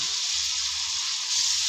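Spices sizzling in hot oil for a rohu fish curry with ridge gourd, a dense, steady hiss that holds evenly throughout with only a slight swell near the end, close and loud, with no voices.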